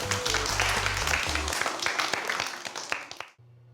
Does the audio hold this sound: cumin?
no